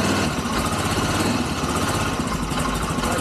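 A freshly started ATV quad engine runs with a steady, buzzy idle, close and loud, a slight choke still on, with no talking over it.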